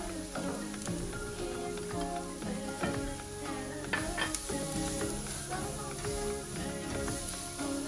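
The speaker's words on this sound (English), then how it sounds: "once we've done the frying of all our little ingredients" Steady sizzling of ingredients for Ecuadorian chicken stew frying in a pan with cumin and coriander powder, continuous crackle and occasional clinks and stirring sounds, no talking.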